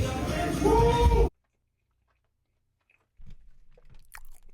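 Close, loud chewing of Costco pizza with crunchy bites and a brief voiced sound, then a sudden stretch of silence before softer chewing noises return.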